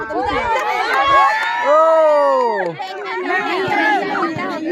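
A crowd of spectators at a kho-kho practice match chatters and shouts near and loud, excited voices overlapping in a lively outdoor babble.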